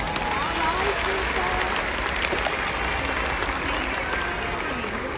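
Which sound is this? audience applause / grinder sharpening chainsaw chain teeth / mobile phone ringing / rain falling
audience applause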